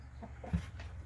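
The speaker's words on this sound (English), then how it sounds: "Walking by the chicken coop" Chickens at a backyard coop give a few soft, low clucks spread across a short moment, close by and fairly quiet, with no one speaking.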